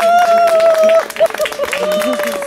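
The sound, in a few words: audience applause at outdoor theatre show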